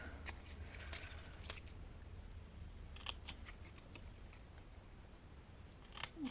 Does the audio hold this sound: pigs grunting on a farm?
no